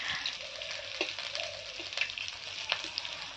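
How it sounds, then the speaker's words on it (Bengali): Fish frying in a pan with onions in a home kitchen, a steady close hiss of hot oil with sharp crackles and occasional stirring scrapes, no speech. "এদিকে মাছ ভাজা হয়ে গেছে"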